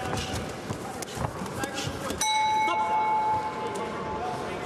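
A single loud metallic gong strike ends a boxing round, ringing out over noisy crowd and scuffling sounds, its bright tone lingering and slowly fading.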